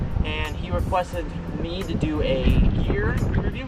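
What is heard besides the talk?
wind blowing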